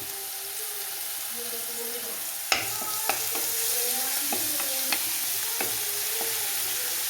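Ginger-garlic paste frying in oil in a pan, a steady close sizzle broken by sharp metallic clinks of a spoon against the pan, with a faint voice in the background.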